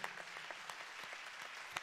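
An audience claps after a performance by the Ritmo Sinfonico ensemble of the Frescobaldi Conservatory in Ferrara, faint and distant steady applause with a few sharper claps standing out.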